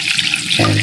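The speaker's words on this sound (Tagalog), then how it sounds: "Then maglalagay na tayo ng tubig." Tap water gushes into a large cooking pot, about two liters, for a chicken tinola soup broth, starting abruptly partway through as a steady close pour with no talk.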